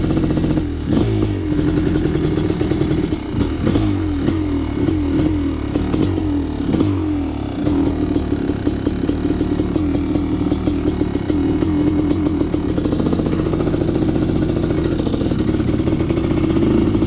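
Kawasaki KX500 dirt bike engine running steadily and loud up close, a rough two-stroke drone with clattering and a few blips of revving early on, then holding a constant idle-to-mid throttle note throughout.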